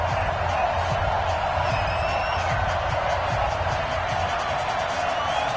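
A stadium crowd at an NFL game between the Cincinnati Bengals and Cleveland Browns in an EA Sports football game keeps up a steady, broad roar of cheering, with faint whoops and a commentator's voice over it.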